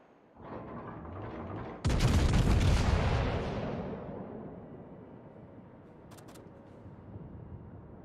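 Heavy naval guns boom in a warship video game, a sudden loud blast with a long rumbling decay following engine and battle noise, then faint distant crackles.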